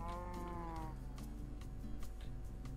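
A Minecraft cow lets out a short, close moo at the start over a steady bed of game background noise, followed by faint scattered clicks and taps.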